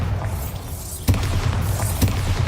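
Two Bombarda spell explosions from the video game Hogwarts Legacy, each a sudden booming burst about a second apart, over a steady rumbling game background.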